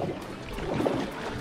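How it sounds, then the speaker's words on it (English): Canoe paddled by hand on a river after its motor broke down: soft, steady water swishes and low rumble close by, with some wind noise and no talk. "This is what happens when motor breaks down and I have to paddle."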